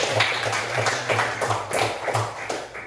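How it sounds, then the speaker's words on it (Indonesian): A small group of classroom students claps in quick, uneven bursts, close by and fairly loud, with no voices over it. "tepuk tangan untuk Afif."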